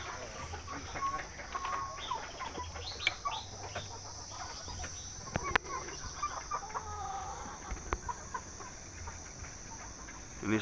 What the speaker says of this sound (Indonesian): Wah, ini ayam-ayam pakoi-pakoi super ada di sini.